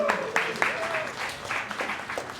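A comedy club audience in Dallas claps for a few seconds, a dense patter of hands that swells and fades, mixed with voices.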